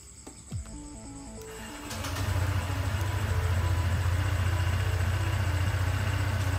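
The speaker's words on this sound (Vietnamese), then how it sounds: "bây giờ là mình sẽ nổ máy lên cho anh em coi" A car engine cranks and catches after a brief moment of quiet clicking, then settles into a steady, continuous low idle that holds loud and even to the end.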